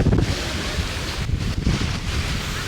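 Strong wind gusts buffet the microphone over choppy water beside a rocking boat, a loud, steady roar with a low rumble and wave wash throughout and no voices.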